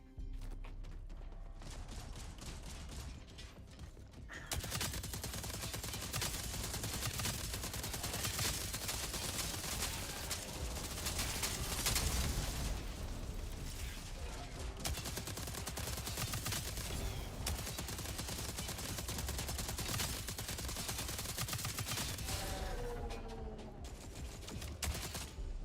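SMG gunfire in the sci-fi video game Jump Space: sustained, rapid, dense bursts of shots run almost continuously for over twenty seconds, loud and close with mechanical clatter throughout.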